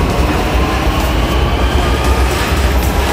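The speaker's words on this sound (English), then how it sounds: "We have missed the first train. We can hear it leaving right now." A train pulls out of a station nearby, a loud steady rumble of rolling wheels and rail noise filling the whole stretch with no talk.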